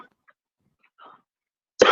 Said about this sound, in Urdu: کھانسی کھانسی کر لیں سکون سے سر، کوئی مسئلہ نہیں